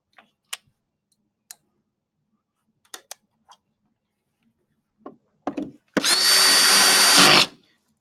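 A power drill drives screws into sheet metal, first a scattering of sharp isolated clicks and taps, then a couple of short bursts and one loud, close whirring run of about one and a half seconds at the end.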